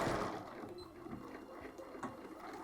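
Sewing machine stitching a side seam on a Christmas mini greenhouse craft, a quiet steady mechanical whir with a faint rhythmic chatter, close but soft.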